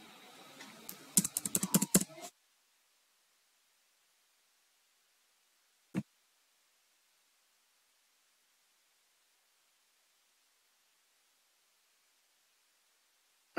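A quick burst of computer keyboard typing as an email address is entered, followed by near silence with a single faint click later.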